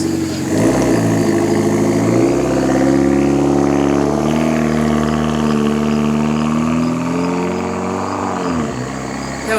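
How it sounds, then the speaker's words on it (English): A Mitsubishi Evo pulls away nearby, its engine a steady loud drone that rises and holds for several seconds before easing off, with no talking over it. "my neighbor has a really nice Evo, so he's leaving right now."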